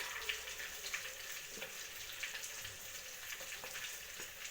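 Kebab pieces frying in hot oil give a steady, fairly quiet sizzle with faint crackles and pops throughout, and no voices.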